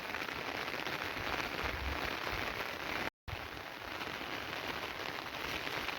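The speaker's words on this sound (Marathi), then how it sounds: "हे गेल्या 8 दिवसांना आमच्या इकडे पाऊस चालू आहे" Steady rain falls on a waterlogged cotton field after days of downpour. The dense, even hiss lasts the whole time, broken only by one brief gap.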